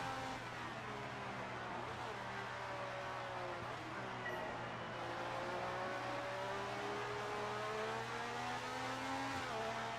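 An F1 race car engine in the F1 2018 video game holds a steady, high-pitched whine whose pitch drifts up and down as the car runs, continuous for the whole stretch with no talk over it.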